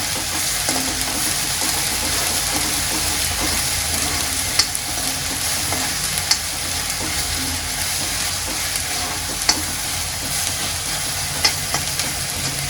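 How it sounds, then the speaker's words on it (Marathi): A ground paste of roasted coconut, chili, coriander and tomato fries in oil with a steady, even sizzle and a few faint sharp ticks, and no voices. "वाटणाला चांगलं मी तेलामध्ये परतून घेते"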